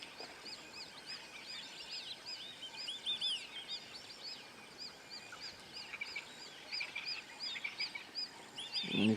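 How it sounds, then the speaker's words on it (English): A flock of white-faced whistling ducks gives high, thin whistling calls over and over, many birds overlapping at a moderate distance against a soft outdoor hum. "There's a whole group of white-faced ducks, or you'll actually hear their sound."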